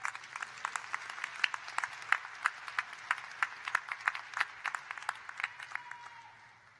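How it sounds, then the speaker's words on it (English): Graduates clapping for themselves at a winter undergraduate commencement ceremony, a moderately dense round of close, crisp hand claps that thins out and fades toward the end. "Give yourself a round of applause and be seated."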